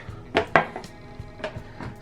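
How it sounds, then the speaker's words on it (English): A knife slices washed cucumbers into long strips on a board. A few sharp cutting taps and clicks come sparsely and fairly quietly, with no talk. "I washed them and just start slicing them like into long slices like this."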